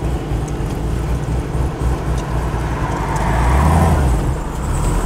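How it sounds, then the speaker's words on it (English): A car engine idles steadily with a slightly rich fuel mixture after a tune, giving a continuous low rumble that swells briefly toward the end with no voices. "maybe it's idling a little bit too rich for it"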